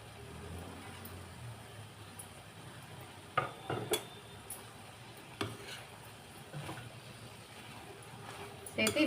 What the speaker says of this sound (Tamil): சேர்த்து இந்த மாதிரி நல்லா கலக்கி விட்டுக்கலாம்